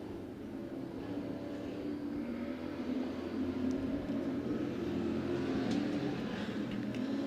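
Race car engine at Penn Can Speedway, a car with a flat tire pulling away toward the pits, a steady loud broadband rumble that holds for the whole stretch with a slight swell partway, no voices over it.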